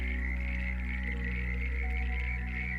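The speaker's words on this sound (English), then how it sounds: "Frogs are not simply making noise in the night, they are announcing their presence," Frogs croaking along a pond's edge at night, a steady dense chorus with a continuous pulsing trill that holds without pause throughout, fairly close and even in level.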